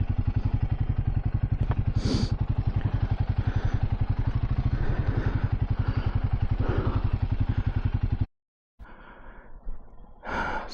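Motorcycle engines idle with a steady low throb close by while riders park outside the Lamayuru restaurant on the Kargil to Leh route; the rumble cuts out abruptly near the end, leaving brief quiet and small handling noises.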